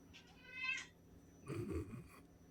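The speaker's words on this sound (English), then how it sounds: "He wants like petted, he meows, or he wants some." Two drawn-out cat meows a moment apart, the second lower and throatier, close to the listener in a quiet room.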